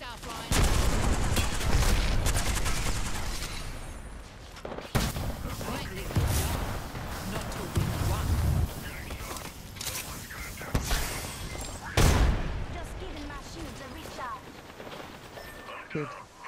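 Gunfire in Apex Legends crackles in loud bursts and rapid volleys, broken by brief pauses, with mechanical clatter and a voice talking over the shooting.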